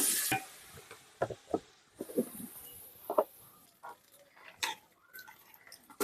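Cardamom, cinnamon and garlic paste fry in a pan, a soft sizzle broken by irregular scraping and stirring clinks at close range, fairly quiet overall.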